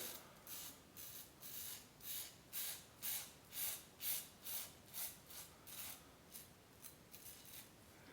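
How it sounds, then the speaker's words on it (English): A Merkur Progress adjustable safety razor with a fairly wide blade gap scrapes through stubble in a steady rhythm of short, crisp strokes, close up and quiet with no talking. "You can hear that blade singing because it's got a pretty good blade gap"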